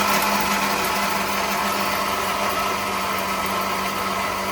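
An electric mixer grinder runs continuously while grinding peanut chutney with salt and water, giving a loud, steady whirring drone with a rough grinding texture that holds for several seconds without talk.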